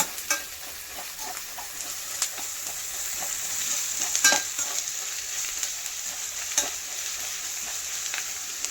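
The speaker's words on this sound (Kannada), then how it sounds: "ರುಚಿಗೆ ತಕ್ಕಷ್ಟು ಉಪ್ಪು. ಚೆನ್ನಾಗಿ ಫ್ರೈ ಮಾಡ್ಕೊಳ್ಳೋಣ." Masala with turmeric and salt sizzles steadily in a pan for egg bhurji, with a continuous close frying hiss and repeated scraping stirs of a spatula throughout, no talking.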